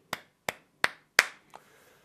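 Four crisp, separate hand claps ring out at an even pace, then a fifth, softer clap trails off into quiet; the sound is close and alone.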